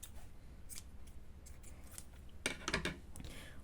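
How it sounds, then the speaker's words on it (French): Scissors cutting crochet yarn: a quiet, close snip near the end, with faint handling rustles before it in an otherwise hushed setting. "une maille en l'air et vous venez couper le fil"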